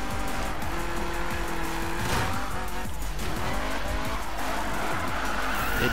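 1996 and 2015 Mazda MX-5 drifting in Need for Speed 2015, engine roaring hard beneath continuous loud tire squeal, close and unbroken.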